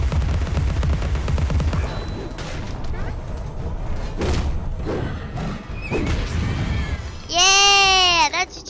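Video game gunfire blasts at enemy doll creatures, a string of sharp thumping shots and impacts mixed with game noise, ending in a bright, warbling synthetic effect.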